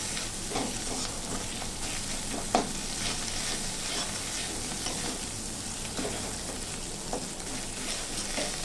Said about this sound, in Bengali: আদাটা একটু নেড়ে চেড়ে কষিয়ে নেব পেঁয়াজের সঙ্গে